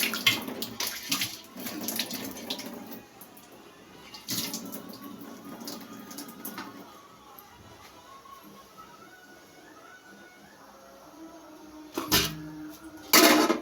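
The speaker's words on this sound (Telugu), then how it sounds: "కడిగేసుకుంటాను" Water running and splashing during washing up at a sink, uneven gushes and clatter close by, quieter stretches between, with a louder burst of running water near the end.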